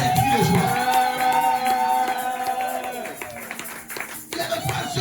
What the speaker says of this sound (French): Est-ce que l'église bénie peut acclamer pour faire des cris de joie?